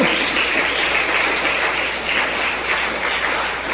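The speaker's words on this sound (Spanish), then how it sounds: "dale un aplauso a Dios" A church congregation applauds during a sermon, a loud dense wall of clapping from many people that holds steady for the whole stretch without talk.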